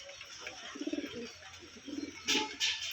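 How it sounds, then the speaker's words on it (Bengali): A domestic pigeon coos twice nearby in short, soft bursts of throaty pulses, separated by a quiet pause, against a faint background hiss. "এই একটা পায়রা দেখুন, দেশি পায়রা।"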